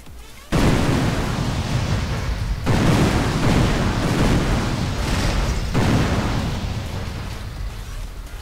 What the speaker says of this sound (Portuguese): A explosão é muito potente, ó.